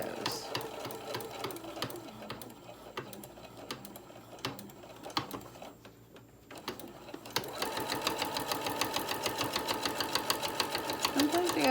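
A sewing machine stitches a small tote bag with pockets, its needle tapping in rapid rhythmic bursts, pausing briefly, then running fast and steady, loud and close, with a voice speaking over parts of it.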